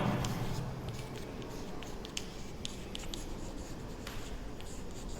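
Pencil or pen drawn across graph paper to join plotted points into a straight line, a soft continuous scratchy writing sound, close and fairly quiet, with no talking.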